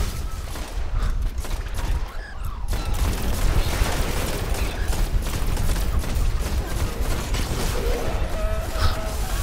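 Rapid gunfire in Destiny's Prison of Elders, dense continuous bursts and impacts running throughout, loud and busy with scattered game effects layered over it.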